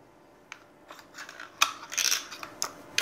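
Staples go into a tapener plant tying tool used for tying crops: a quick series of small, close metallic clicks and rattles, sparse at first and then denser, with no speech.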